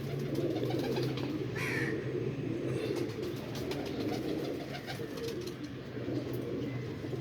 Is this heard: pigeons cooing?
yes